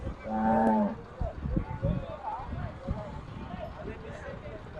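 Cattle at the busy Erragadda livestock market, where cows and buffaloes are traded, with one deep moo near the start. Crowd chatter and general market noise continue throughout.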